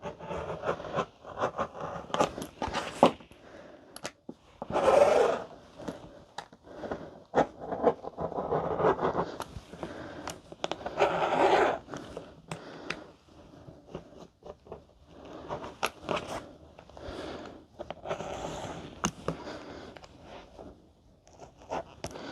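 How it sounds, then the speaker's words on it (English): Scissors snip and slide through handbag fabric as the main panels and gusset sides are cut, giving irregular close scraping and crunching strokes that come in bursts with short pauses. "I'm just kind of all over the place cutting this."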